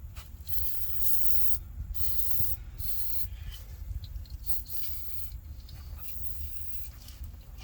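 Penetrating oil sprays onto the bolts of a 1999–2006 Chevrolet Silverado in several hissing bursts of varying length, separated by brief pauses, close to the listener and without talk.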